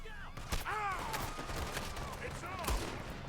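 Video game gunfire crackles in rapid bursts of shots, mixed with game sound effects and voices throughout.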